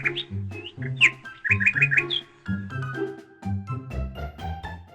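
Melodic song of a small blue bird, with bright chirps and trills, several short phrases over a steady musical background, no voices.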